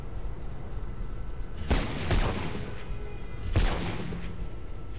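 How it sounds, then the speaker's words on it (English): Gunfire in the video game Mirror's Edge: two heavy bursts of shots about two seconds apart, loud against a steady noisy game background with no talk. "Okay, fine, let's shoot it."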